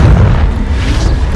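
Confringo fire spell blasts in the Hogwarts Legacy video game, a loud, dense low rumbling explosion that sustains through the whole moment with crackling texture above.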